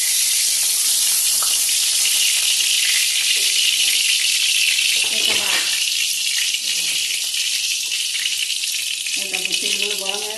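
Oil hisses and sizzles loudly in a hot pan as cabbage, coconut and carrot fry for a South Indian aloo bonda recipe, a constant bright crackle with a voice speaking intermittently underneath.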